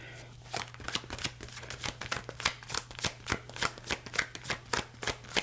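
A deck of tarot cards being shuffled by hand, a steady series of crisp riffling bursts about every half second, close and fairly quiet over a low hum.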